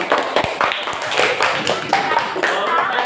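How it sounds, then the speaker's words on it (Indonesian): Students in a fifth-grade classroom clap for the first group after a quiz, scattered, uneven hand claps with distinct sharp hits, mixed with children's chatter in the room. "Tepuk tangan untuk nomor 1"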